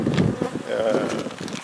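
A brief, close buzzing of honey bees at a hive, a dense hum that wavers slightly in pitch.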